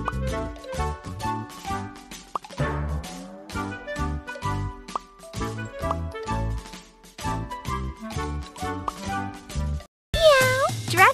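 A cat meows repeatedly in a kitten hair salon and birthday party pet care video game, the cartoonish meows arriving in a rhythmic string over bright game jingles.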